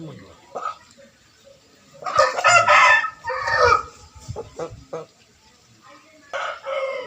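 A fighting-breed game rooster crows loudly nearby in a long drawn-out call, followed by brief clucks and short bursts of other fowl sounds.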